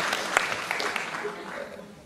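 A crowd applauds a jury member at a local beauty pageant. Steady, moderately distant clapping from many hands continues evenly, fading slightly toward the end.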